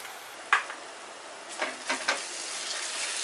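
Palak paneer with cream being stirred in a pan over low heat, giving a faint scrape at first and then a few soft, wet stirring sounds and a light sizzle, close by and quiet.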